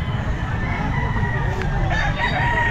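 Raptor Sweater gamefowl rooster at a busy pet market, crowing amid a dense wash of other birds and crowd murmur, a steady loud background with the crow not standing out sharply.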